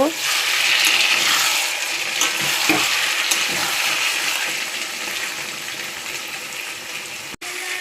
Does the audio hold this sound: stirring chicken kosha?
yes